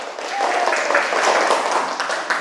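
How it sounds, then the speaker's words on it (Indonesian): Students in a classroom clapping for a group of classmates: a short, dense burst of applause mixed with some voices. "kita kasih tepuk tangan untuk kelompok 3"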